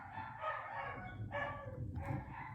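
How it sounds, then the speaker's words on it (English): Dogs bark loudly and close by, three bursts of barking over a muffled room background. "I'm sorry again for the dogs. Very loud."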